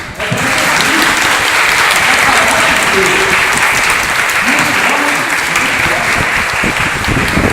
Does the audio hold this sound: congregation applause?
yes